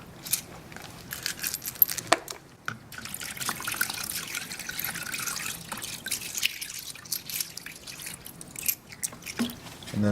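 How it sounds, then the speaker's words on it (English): Running water splashes and trickles over a handful of pennies during rinsing, a steady close patter with small clinks and drips continuing throughout. "And the other half I'm going to rinse with water."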